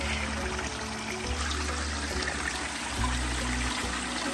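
Water runs steadily through a gold cube sluice, a quiet, even gush and trickle that carries on without pause.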